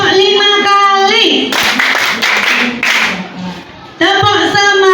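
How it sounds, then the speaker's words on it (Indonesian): Schoolchildren in a classroom clap in unison during a lesson, a burst of loud, close hand claps lasting a couple of seconds between stretches of sung or chanted children's voices. "Tepuk 5 kali."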